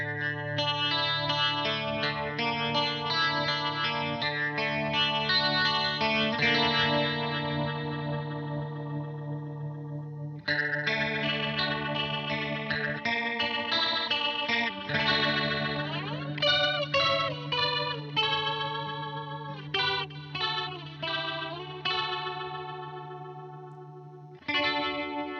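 Electric guitar played through a fake Leslie rotary speaker effect, giving a swirling, wavering chorus-like tone to sustained chords and picked notes, loud and steady with no talking.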